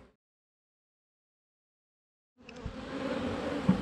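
Honeybees in a hive box, old bees below and new bees above, buzz in a dense steady hum that starts abruptly after a silent stretch and stays close.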